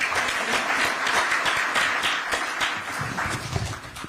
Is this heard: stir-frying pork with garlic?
no